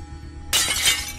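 Fragile glass objects shatter all at once in a sudden loud crash, followed by a bright, sustained spray of tinkling breakage with no voices.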